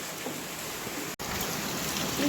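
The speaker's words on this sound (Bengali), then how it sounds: "ঝমঝমিয়ে বৃষ্টি বাপরে আওয়াজ শুনছ" Heavy rain pours in a dense, continuous hiss, with one split-second break.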